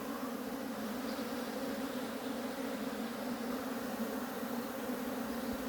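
A steady, dense drone of many honey bees at an apiary, young bees on their orientation flight, buzzing together, continuous and even throughout with no other sounds.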